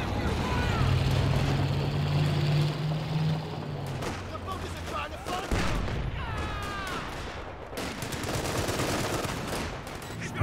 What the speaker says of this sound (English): Oh, that's the M1919 Jaeger Light.